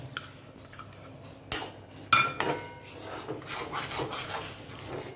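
Wheat flour roasting in ghee is stirred with a utensil, giving scraping, rasping strokes against the pan that start sharply partway through and continue steadily and close, with no talking.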